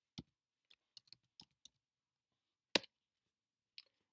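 Sparse, faint clicks of a computer keyboard, scattered single keystrokes and small clusters with gaps of silence, including one sharper tap midway and a last soft click near the end.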